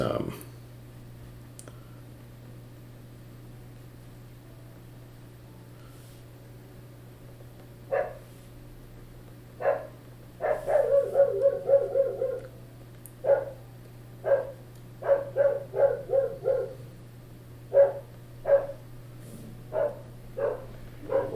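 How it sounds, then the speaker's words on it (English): Dogs bark in the background: scattered single barks at first, then a quicker run of short, sharp yaps and further barks spaced out, mid-distance, with light clicking underneath. "sorry if you can hear the dogs barking in the background there"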